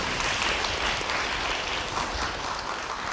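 Audience applause at a lecture on social welfare vocabulary, a steady dense patter of clapping at even loudness throughout, with no voices over it.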